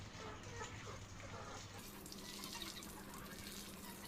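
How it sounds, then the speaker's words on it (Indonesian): Very faint water splashing and trickling steadily as plants are watered, distant and soft, with a low hum in the background. "Siram-siram tanduran sik lor"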